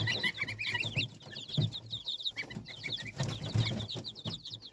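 A small black bantam hen clucks in short, busy bursts among other chirping birds, close by, with scattered fowl calls overlapping throughout.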